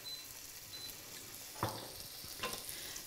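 Thai red curry paste frying in sesame oil, a quiet even sizzle with a couple of sharp clacks of a utensil against the pan while stirring.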